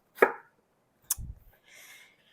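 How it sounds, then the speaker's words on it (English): A knife slices through eggplant on a cutting board, cutting the larger pieces into cubes: two separate chops, each a sharp crisp strike followed by a brief dull board knock, then a faint soft scraping. "And then I'll go back through in any of the larger pieces. I will just slice again."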